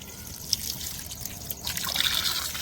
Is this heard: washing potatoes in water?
yes